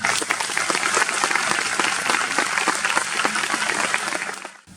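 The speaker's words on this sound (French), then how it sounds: "je pense qu'on peut tous l'applaudir" A church congregation at a confirmation service applauds, a full room of steady clapping with distinct individual claps, fairly loud and sustained before dying away at the end.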